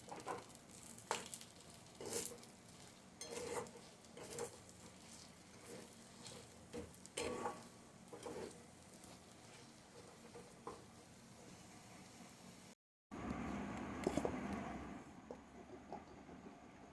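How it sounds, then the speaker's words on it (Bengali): Semolina and a spoonful of ghee sizzle and scrape in a pan while being stirred for sujir gulab jamun, a steady close frying hiss with rhythmic spoon strokes, then a brief cut into a louder, denser sizzle. "এরপর আবারও 1 চামচ ঘি দিয়ে দিচ্ছি এটার মধ্যে, সুজিটার মধ্যে।"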